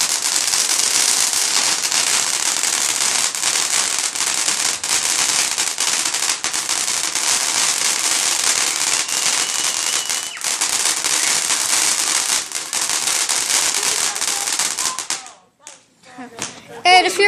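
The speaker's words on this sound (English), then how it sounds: "that's where we got Illuminati Triangle and all of these other illegal fireworks" Illegal consumer fireworks bought in Las Vegas go off outdoors in a long rapid barrage of sharp cracks and pops, loud and close, ending in a brief lull with a few scattered bursts.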